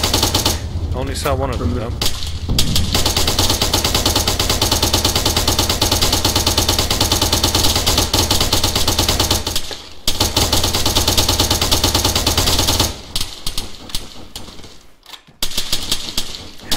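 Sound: airsoft gunfire

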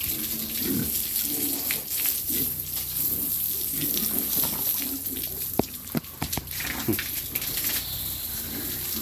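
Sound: running water bathing farm animals

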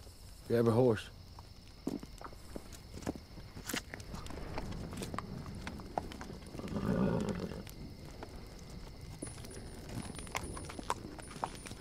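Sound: horses walking, hooves clip-clopping

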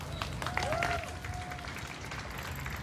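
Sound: audience clapping at a comedy show

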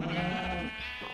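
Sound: sheep bleating in Minecraft video game

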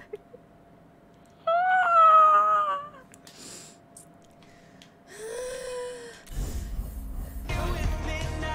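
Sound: cat meowing

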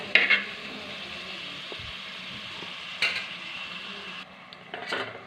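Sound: onions being sautéed in a pan for fish curry

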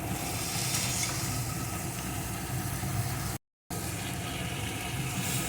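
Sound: eggplant frying and being stirred in pan

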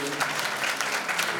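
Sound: audience applause for Jesus at a church service

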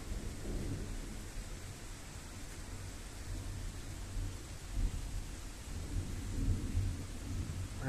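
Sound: night thunderstorm with thunder and rain

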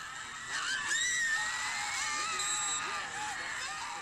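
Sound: crowd screaming

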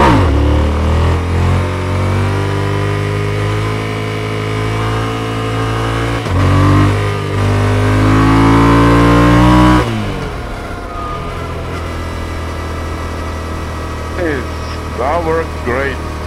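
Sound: Tenere 700 motorcycle engine revving during a wheelie

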